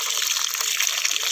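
Water flows steadily into a protected bed for growing water spinach, a continuous close gushing rush that stays even and fairly loud throughout.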